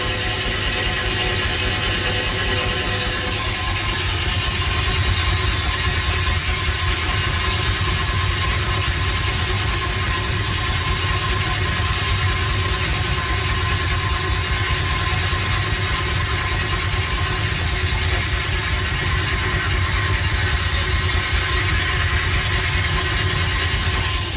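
Lortone LS10 slab saw running steadily with old arbor bearings, a loud continuous motor hum and mechanical drone with a faint rattle underneath, unbroken for the whole stretch.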